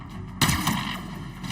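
Gunfire in Call of Duty Modern Warfare 2, with a sudden loud burst of shots breaking in partway through, then a rumbling, echoing tail over steady game background noise.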